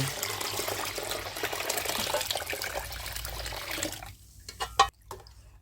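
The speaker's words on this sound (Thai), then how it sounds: "ในขั้นตอนต่อไปเราจะเติมน้ำส่วนที่เหลือ 4 ลิตรค่ะ เราใช้เป็นน้ำดื่มเท่านั้นนะ เทลงไปในขั้นตอนนี้เลย" Drinking water is poured steadily into an apple wine mixture, a continuous close splashing gush that stops near the end and leaves a few trailing drips.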